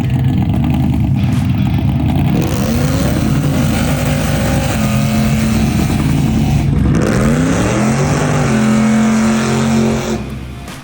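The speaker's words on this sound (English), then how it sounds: "we were doing burnouts right there where that car's parked in the 70s Charger with a 671" A loud 1970s Dodge Charger with a 671 blower revs hard and roars continuously during burnouts, pitch rising and falling as the motor is pushed, close and unbroken.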